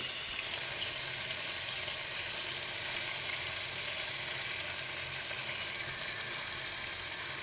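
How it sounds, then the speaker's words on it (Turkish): Chicken pieces fry in a pot as tomato sauce is added, giving a steady, soft hissing sizzle that continues evenly without breaks. "Şimdi domates sosumuzu ekliyoruz"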